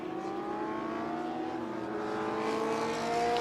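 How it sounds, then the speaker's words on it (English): A historic Formula 2 March 742 race car drives past at a classic motor race, its engine note rising and shifting as it accelerates, loud and continuous with no talk. "there is car 47, Graham Ridgway, March 742 again"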